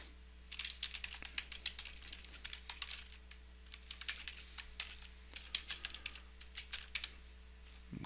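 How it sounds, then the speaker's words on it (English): An email address being typed on a computer keyboard, close and quiet, with irregular clusters of key clicks and brief pauses between them. "let me go ahead and paste in or type in the email here."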